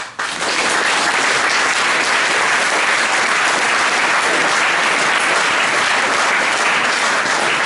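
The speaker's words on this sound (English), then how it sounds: "I'd like everyone to give her a round of applause for last year" An audience claps in sustained, dense applause at a Fellsman 2013 fell-running prize giving, loud and continuous from start to finish.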